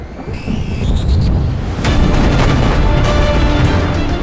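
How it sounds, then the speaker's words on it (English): Naval guns of US Cleveland-class light cruisers firing on a Japanese cruiser during a night sea battle, a dense rumbling barrage of booms with sharp reports rolling continuously over a deep low roar. "This is when the Clevelands opened fire at cruiser Sendai."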